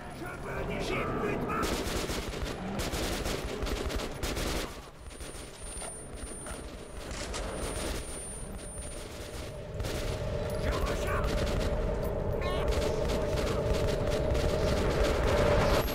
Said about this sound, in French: Sur quoi vous tirez les gars